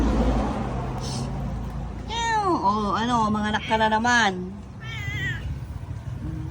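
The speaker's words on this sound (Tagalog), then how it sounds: "Mga pusa." Several cats meow loudly and repeatedly close by, overlapping one another, with a person speaking briefly.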